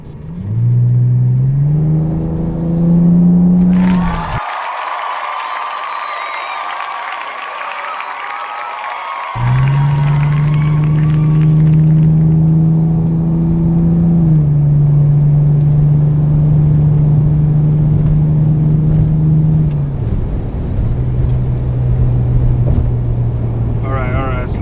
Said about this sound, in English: So this possibly could be the last time that we drive the straight piped E46.